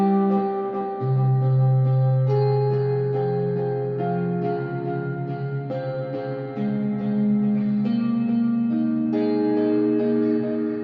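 Guitar plucks from the Cinedream cinematic instrument with added delay form a steady sequence of notes, each repeating in trailing echoes that blend into a shimmering, sustained bed as the line shifts pitch.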